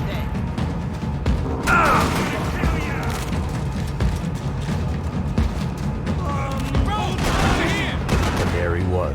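Video game gunfire in Max Payne 3, rapid overlapping shots and bursts with booming impacts and crashes, loud and dense throughout, with shouted voices in between.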